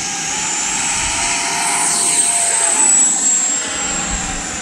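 FMS Futura V3 80mm RC jet attempting a takeoff run on thick grass, a loud, steady ducted-fan roar that swells slightly mid-run and holds, close by, with no voices.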